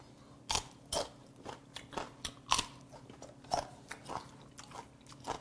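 Crunchy bites and chewing on sea hare, a series of close, crisp crunches at an irregular steady pace, about a dozen distinct snaps over a quiet background.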